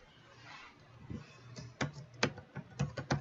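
Quiet clicking of keys on a computer keyboard, a sparse then quickening run of close, soft taps that grows denser toward the end.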